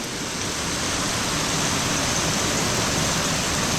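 Steady, dense rain pours down with a constant broadband hiss, loud and unbroken, with no voices or other sounds over it.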